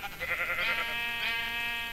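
A sheep in the video game Minecraft lets out a single drawn-out, wavering bleat, close and clear, with no talk over it.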